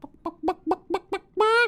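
A person imitates a chicken with a run of five short, evenly spaced clucks, then ends on a longer, drawn-out squawk. The voice is close and clear, with no other sound around it.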